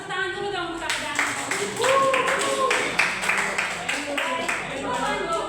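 Scattered clapping from a small audience at a live presentation, irregular hand claps running beneath ongoing talk and voices.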